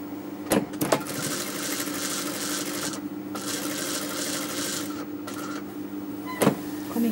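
A sewing machine stitches fabric for a boy's jubba, running in a continuous mechanical whir broken by a few sharp clicks and short pauses, close and fairly loud.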